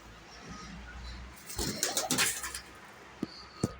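Pigeons coo nearby in a short burst of soft, rolling calls, followed by a couple of sharp knocks and a faint rustle of wings or movement.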